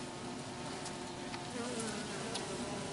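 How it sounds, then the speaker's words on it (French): Honeybees swarming and buzzing during a gentle colony rescue, a dense, steady drone of many wings filling the air close by, with an occasional louder pass of a single bee and no voices. "vous allez voir les abeilles, hop, qui sont là, c'est celles qui sont tombées et hop elles remontent"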